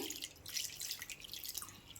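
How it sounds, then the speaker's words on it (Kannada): Small splashes of water are poured bit by bit into flour for puri dough, making a faint, soft trickling and dripping that lasts about two seconds, up close and without speech. "ಇವಾಗ ಸ್ವಲ್ಪ ಸ್ವಲ್ಪ ನೀರು ಹಾಕಿ"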